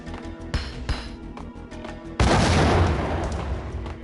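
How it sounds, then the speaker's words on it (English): A grenade blast goes off in a video game, a sudden loud broadband burst about halfway through that rumbles and decays, following steady busy game noise and faint thuds. "Okay, chill with the grenades, man."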